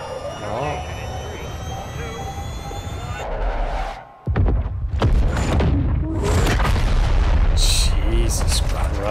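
Heavy explosions and roaring jet-like rumble from a Modern Warfare 2 campaign battle destroying a target, a sudden dropout followed by a loud sustained blast and debris noise, with excited voices talking over it.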